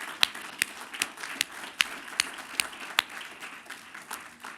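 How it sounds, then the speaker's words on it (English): Scattered, fairly faint claps from a workshop audience applauding a panel of speakers, with sharp individual hand claps popping out at an irregular rhythm over a thin room background. "Let's please give our panelists a round of applause."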